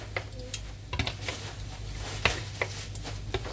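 Food is turned over and left to brown in a frying pan, with quiet clinks and scrapes of a utensil against the pan over a soft, low sizzle.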